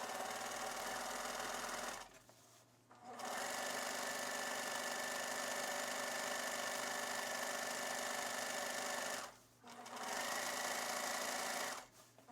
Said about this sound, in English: I'm going to use the serger to cut mine off and serge it at the same time.